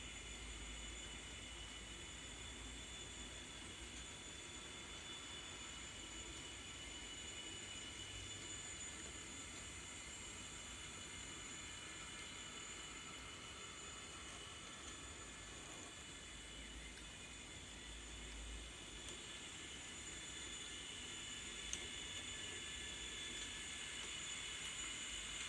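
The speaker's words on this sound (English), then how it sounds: "So we'll just watch the trains for a minute" An N scale model coal train runs on a layout, giving a faint, steady mechanical hum and rolling rumble that carries evenly through the whole stretch without talk.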